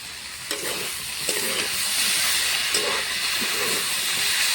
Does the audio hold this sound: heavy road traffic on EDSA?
no